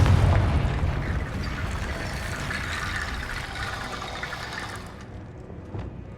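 A Confringo blasting spell detonates in the Hogwarts Legacy video game, a loud, rumbling explosion with a heavy burst at the start that settles into a long, crackling, debris-filled roar fading over several seconds.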